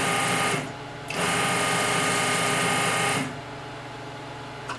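The motor of an NCR 250 machine whirs loudly and steadily, dips briefly, then runs again before dropping to a lower hum, with no voices.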